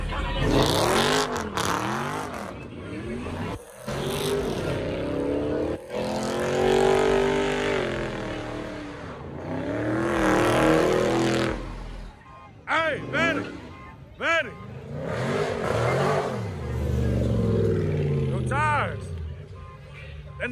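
At a car meet, a car engine revs hard in repeated rising and falling bursts, then roars off at speed, loud and close, with people talking and shouting over it.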